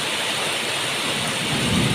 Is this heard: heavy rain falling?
yes